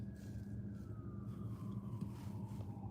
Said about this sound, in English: A lot of ambulances this morning.